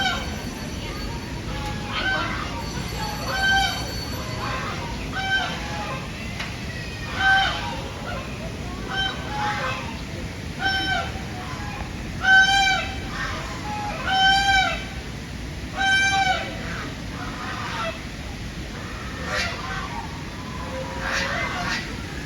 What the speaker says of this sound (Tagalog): grabe yung sound ng mga ibon, mga pato, bibe, aviary